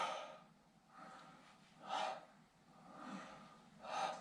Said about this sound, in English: have a breath in here and then breathe out here.